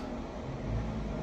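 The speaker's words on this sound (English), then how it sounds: "Now there is 2 buses are going." Buses pull away from a wet bus stop serving a route into Drammen City, a steady low engine rumble that swells slightly toward the middle, close and loud with no talking over it.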